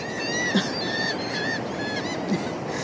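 Seagulls call repeatedly in the background, their high, bright cries rising and falling across the stretch with two sharper accents, mid-distance over a steady wash of ambient noise.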